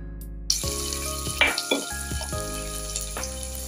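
Onion, green chili, ginger and curry leaves fry in hot oil over spluttered mustard seeds for buttermilk upma, a steady sizzle under a constant hum, with a few sharp clatters of stirring.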